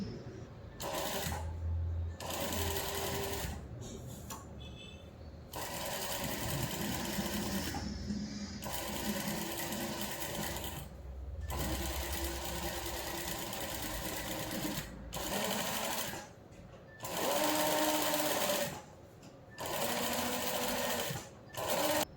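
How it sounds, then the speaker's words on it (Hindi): A sewing machine stitches along the neckline edge of a katori blouse, running in close, loud bursts of rapid whirring separated by short pauses, with a few brief quiet gaps. "अब देखिए इसके बराबर एज पर मैं सिलाई दूंगी।"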